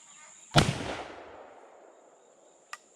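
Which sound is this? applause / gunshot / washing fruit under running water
gunshot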